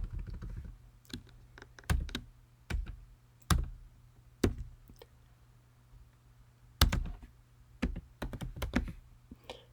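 Keys on a computer keyboard are typed in short bursts of sharp clicks and taps, close and fairly quiet, with pauses between groups and no talking.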